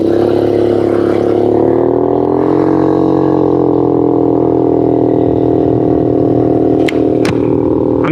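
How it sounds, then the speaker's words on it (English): A 2008 Lance Milan GY6 scooter is ridden at a steady pace, its engine droning loud and constant with a slight rise in pitch, wind rushing past and a couple of brief clicks near the end. "Let's see what the nimbleness has to offer with the 2008 Lance Milan GY6 scooter."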